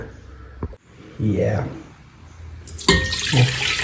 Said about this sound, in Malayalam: പിന്നെ സ്വല്പം വെള്ളം ഒഴിക്കുന്നു